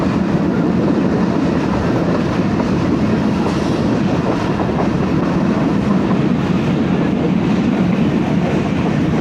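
Awam Express passenger train braking into a station, heard from on board during a winter ride: a steady, loud, dense rumble of wheels and carriage noise that holds evenly throughout with no speech.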